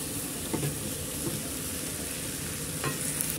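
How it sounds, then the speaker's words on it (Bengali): Pumpkin and potato curry being stirred in a frying pan, a steady low sizzle with a few soft scraping strokes of the spoon at close range and no voices. "আবার দেখো ভালো করে নেড়ে দিচ্ছি।"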